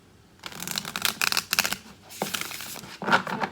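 Tarot cards being shuffled by hand in a few quick riffling bursts, close and crisp, with short pauses between them and no speech.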